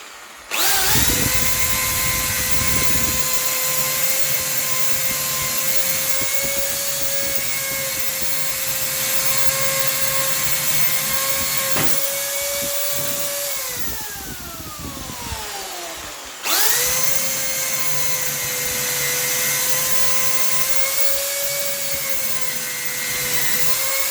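A Parkside PSBM 1100 B1 two-speed hammer drill whines loudly at maximum speed in second gear, steady and close, briefly winding down in pitch before spinning back up to full speed.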